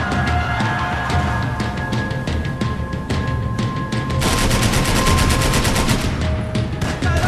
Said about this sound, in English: we're just trying to ring off some headshots here in bullet time